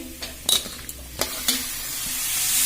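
Thinly sliced tomatoes go into masala frying in a pan for a potato and pea sabzi. A soft sizzle runs under a few sharp clinks and scrapes of a stirring spoon, then the frying builds to a steady hiss.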